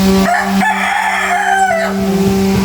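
A loud, close rooster crow stretches across most of the moment, with clucking hens around it.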